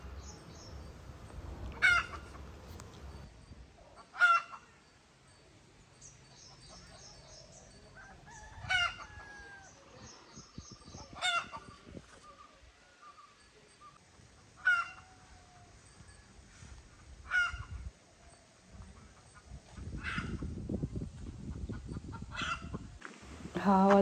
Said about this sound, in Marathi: कसा आवाज देतात कोंबड्या.